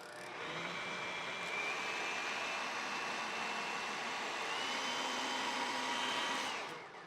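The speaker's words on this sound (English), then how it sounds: "This we're gonna mix back up again because we wiped all of the sides down." Electric mixer whirring steadily through pumpkin crumb cake batter, a fairly quiet, even motor drone that starts and stops cleanly, with no talking.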